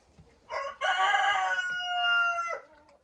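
A rooster crows once, a loud, drawn-out cock-a-doodle-doo close by, with quiet surroundings before and after.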